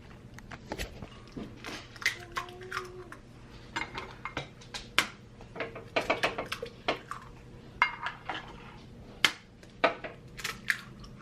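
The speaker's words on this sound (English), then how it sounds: "now you're gonna take your 5 eggs and crack them into the blender" Sharp clattering knocks and cracks in irregular bursts as five eggs are cracked into a blender for flan, with glass and utensil clinks against a low steady hum.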